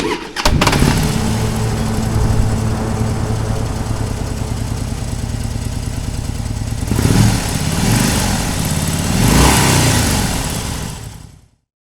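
A Yamaha RX 125Z motorcycle engine starts up, runs loud and close, revs hard twice, then cuts off abruptly.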